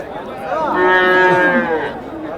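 A cow moos once at a busy cattle market selling Jersey and HF cross cows, a long, loud, close bellow that swells and fades with no talk over it.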